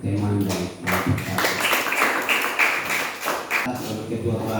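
Classmates applaud a fellow student group, scattered sharp hand claps tapping irregularly and fairly close, with voices talking over the clapping throughout.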